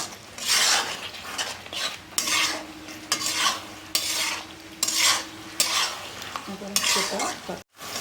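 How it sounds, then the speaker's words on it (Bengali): Fried potatoes stirred into spice masala in a pan, with rhythmic, loud, close scraping strokes about once a second over a soft sizzle, with no talk. "এখন এর মধ্যে দিয়ে দিচ্ছি ভেজে রাখা আলুগুলো। এখন এগুলোকে এর সঙ্গে একটু ভালো করে মিশিয়ে নিচ্ছি।"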